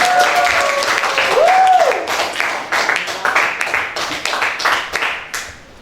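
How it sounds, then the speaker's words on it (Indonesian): Classroom applause for a student group after their presentation, a burst of many hands clapping, close and loud, fading near the end with some voices mixed in. "kita berikan aplaus untuk kelompok"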